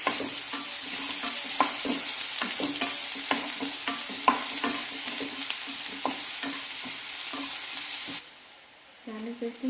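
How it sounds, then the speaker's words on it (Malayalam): Sliced onions with salt being stirred and sautéed in a pan for South Indian potato fry, a bright sizzle broken by repeated spatula scrapes and clacks against the pan, then the frying fades briefly before stirring resumes. "നന്നായി ഇളകി കൊടുക്കുക"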